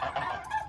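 Geese give a brief, faint honk, a short nasal call heard at a distance.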